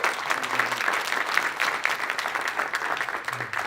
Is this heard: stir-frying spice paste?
no